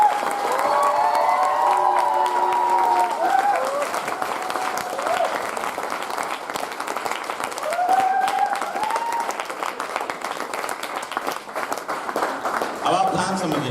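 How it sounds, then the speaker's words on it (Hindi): Meeting crowd applauding loudly, a sustained broad roll of clapping with cheering voices over it, continuous for the whole stretch and fairly near. "एक बार अपने लिए जोरदार तालियां बजाइए।"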